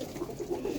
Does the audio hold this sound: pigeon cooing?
yes